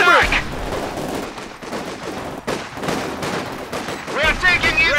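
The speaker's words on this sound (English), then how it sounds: "We are taking infantry fire!" Dense rattling bursts of rifle and machine-gun fire in a Company of Heroes 2 Soviet campaign battle, loud and continuous, with shouted voices mixed in among the shots.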